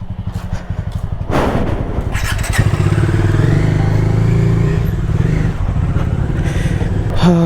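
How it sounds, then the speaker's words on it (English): Motorcycle ridden on the road, its engine running loud and close with a steady throbbing rumble and a few thumps, rising briefly as it accelerates. "Taking my bike for servicing after many days."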